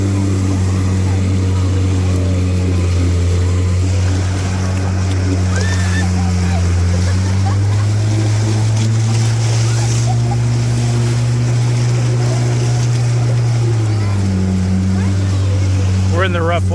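A 1960 Johnson 5.5 HP outboard motor drones steadily and loudly throughout, pushing a small boat through rough water, its pitch rising midway as the throttle opens and then dropping back, with wind and water noise around it.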